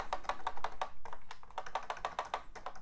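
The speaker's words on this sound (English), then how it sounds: "this is a very different typing experience than I'm used to on a C64" Rapid, crisp clacking of keys typed on an unusual Commodore 64 keyboard with spring-loaded key switches, a steady stream of close, fairly quiet keystrokes with no talking.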